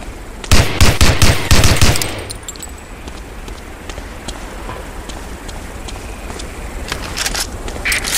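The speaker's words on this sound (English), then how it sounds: "Try a couple of shots on that target with your 45." Several Colt .45 pistol shots fired at a target in Medal of Honor: Allied Assault, a quick run of sharp, loud cracks in the first two seconds, then quiet ambient background with faint scattered ticks.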